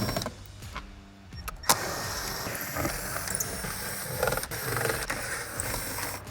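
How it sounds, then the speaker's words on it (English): A ratchet or driver clicks in quick bursts while removing T15 screws from a C8 Corvette bumper, with close mechanical ticking and clatter against quiet garage background. "Let's get to taking some screws out."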